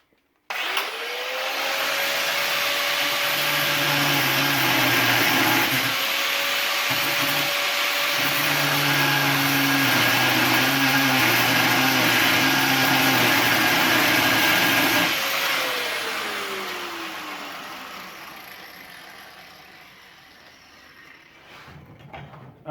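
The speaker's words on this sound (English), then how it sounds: "You can use a side grinder with a cutting disc." Side grinder fitted with a cutting disc slicing through metal for raised garden beds, a loud continuous high whine with rising and falling pitch as the disc loads and frees up, winding down near the end.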